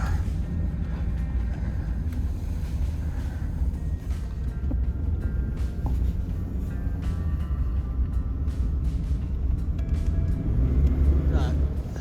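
A turbo diesel truck working through deep snow in a 2022 blizzard, its engine rumbling low and steady throughout, with a slight rise near the end, under constant wind and vehicle noise.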